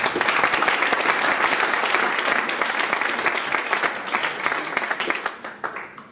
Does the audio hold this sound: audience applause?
yes